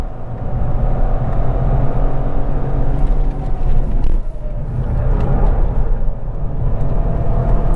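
From inside a moving Opel Astra L hatchback, a loud, steady cabin drone of engine and road rumble holds throughout with only slight shifts in tone, and no voices come through.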